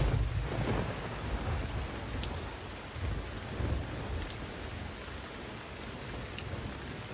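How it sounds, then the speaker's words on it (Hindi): Steady rain pouring down with rolling rumbles of thunder swelling and fading, loud and close, with no voices. "बारिश शुरू हो गई है"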